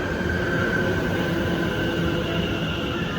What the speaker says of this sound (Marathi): आता मस्तपैकी आमची छान अशी ट्रेन येते